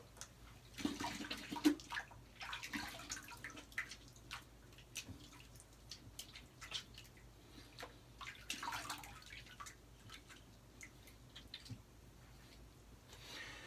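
Warm then cold tap water runs steadily for rinsing after a wet shave, a close splashing flow with irregular drips and spatters, heard alone without talk.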